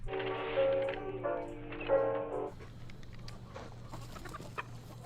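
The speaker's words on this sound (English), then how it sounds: "More chickens." Chickens cluck in a TV show scene from Fallout, a few loud clucking calls up close over a steady low hum, fading into quieter background noise.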